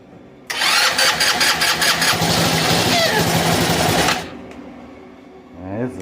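Abandoned, long-neglected GY6 retro-style scooter engine firing up loudly and close, running roughly for a few seconds, then cutting out abruptly, followed by a short quieter whirring sound.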